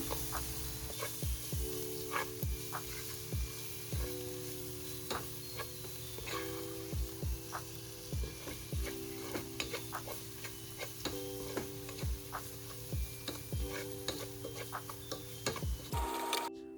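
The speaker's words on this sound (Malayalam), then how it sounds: "ഒരു ടേബിൾ സ്പൂൺ പെപ്പർ പൗഡർ കൂടി ഇട്ട് നന്നായി ഒന്ന് ഇളക്കി കൊടുക്കാം" Spices and pepper powder being stirred in a pan for Kerala-style chicken mappas, with a steady soft sizzle of frying under repeated scraping taps of a spoon against the pan.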